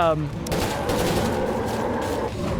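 A gun in State of Decay 2 fires as a continuous, loud burst of rapid automatic shots lasting the whole stretch, close and dense, with no pauses between rounds.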